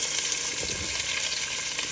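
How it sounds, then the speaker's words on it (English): Steady, dense sizzling of food frying in a pot, a bright continuous crackle with faint stirring noises underneath, close and fairly loud. "can hear the sizzling"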